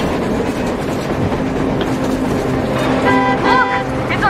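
A train in the video game Metro Exodus gives a steady, close rumble throughout, with bright horn-like toots rising over it near the end.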